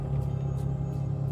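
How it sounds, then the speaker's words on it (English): A street sweeper truck idles outside, a steady low engine rumble that holds constant and fairly loud throughout the short stretch, with no talking. "I'm sorry about the truck idling outside"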